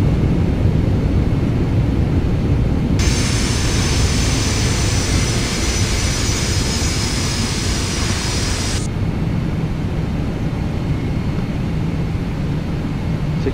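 A Boeing 767-300ER rolls out after landing at Sao Paulo in a flight simulator, a constant roaring engine drone that swells into a bright, loud reverse-thrust blast for several seconds before settling back to the steady roar.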